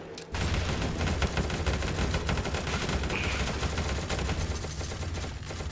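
An MG4 machine gun in the Roblox game rBreach fires a long continuous rattling burst, close and loud throughout, with no talking over it.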